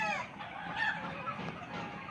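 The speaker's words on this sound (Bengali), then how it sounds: "তো এজন্য আমরা বাছাই করে মোরগগুলোকে এখানে এই ঘরটিতে আলাদা করেছি।" Two-month-old Fayoumi roosters in a separate poultry house cluck and give short, strained crowing calls, close and overlapping in a brief burst.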